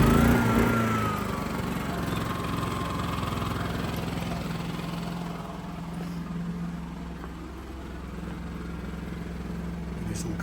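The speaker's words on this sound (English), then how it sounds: "And then what we have is a 3 kVA generator." A 3 kVA generator engine runs steadily with a low, even hum throughout, close and fairly loud, while a person talks over it.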